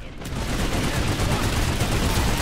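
Dense, continuous rapid gunfire from a team-based shooter video game as players focus fire on a target, steady and loud throughout with a faint hint of voices underneath.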